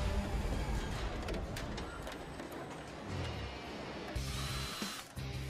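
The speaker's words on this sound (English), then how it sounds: "This team makes using a drill look like spreading butter." A hand drill works on Jaguar XJ car doors on a factory assembly line, giving short whirring bursts over a steady din of plant machinery, with a louder burst near the end.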